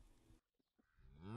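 A single cow moos close by, a short low call that swells in pitch and loudness toward the end, after a brief quiet gap.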